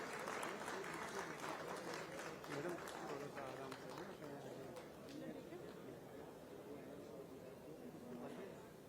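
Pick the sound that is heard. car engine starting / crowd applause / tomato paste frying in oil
crowd applause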